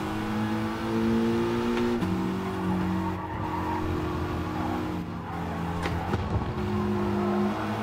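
Race cars in the game GT Sport, among them a Ferrari and a McLaren, with engines droning and shifting pitch as they race close together and tires squealing at moments, steady and loud with no talk.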